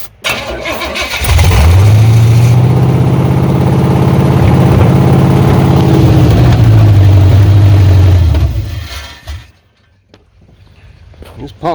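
A Chevrolet 350 Vortec V8 in a 1986 Silverado truck cranks over and fires, settling into a loud, steady rumbling idle for several seconds before shutting off, with faint talk afterward.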